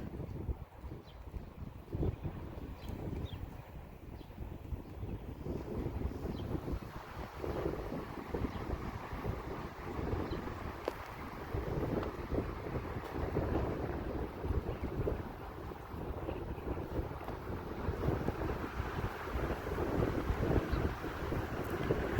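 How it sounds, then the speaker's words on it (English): Steady wind rushes and whooshes through pine trees for a long stretch, a soft continuous roar with gentle swells and some buffeting on the microphone. "just watch the pine trees as the wind goes through them"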